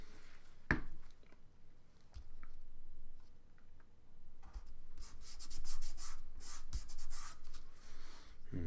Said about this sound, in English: I can put glue on the back of this and glue it down